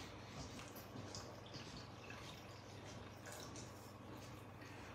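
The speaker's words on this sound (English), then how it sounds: "now I'm going to add a little bit of water." Water poured into a pot of thick cream of crab soup, a steady close liquid wash with soft drips and bubbling throughout, no talking.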